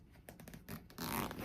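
Zipper pulls on a pouch of a purse, likely a designer bag such as Coach or Kate Spade, rasping in short bursts and then a longer, louder steady zip, close and alone.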